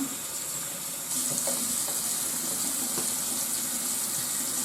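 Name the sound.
water filling a bottle from tap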